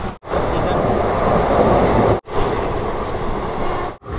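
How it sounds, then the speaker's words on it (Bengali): Passenger train pulling into Bardhaman station, a loud continuous rumble of wheels and carriages with brief sharp cutoffs, heard close from inside the train. "বর্ধমান ঢুকলো আমাদের ট্রেন।"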